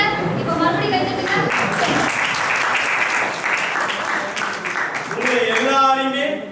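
Audience clapping at a stage play staged for World Theatre Day at Tanjai Tamil University: steady, dense applause from a crowd that fills the whole stretch, holding at a fairly even loudness before swelling slightly near the end.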